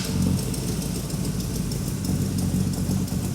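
A freshly rebuilt car engine during camshaft break-in runs at a rough, loud idle close by, with a steady rumble and faint rhythmic knocking, no talk.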